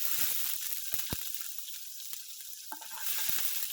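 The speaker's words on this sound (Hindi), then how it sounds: "अभी उसमें हम जो लहसुन की कलियां हैं वो डाल देंगे, और हमारे जो चिलीज है वो भी डाल देंगे।" Garlic cloves and chilies sizzle in hot oil with crackled mustard seeds, a dense close frying hiss with occasional sharp pops and stirring clicks.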